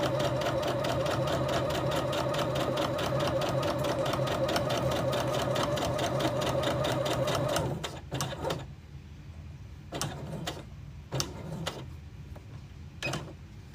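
A sewing machine runs steadily, stitching a quilting seam at a quarter-inch allowance, a fast even needle rhythm close and loud, then stops and gives way to a few short clicks and taps as the needle is set and the fabric is turned.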